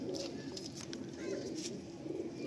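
Pigeons coo softly and continuously inside a pigeon loft in Behala, their low, rolling calls overlapping at a moderate distance against a steady background hum.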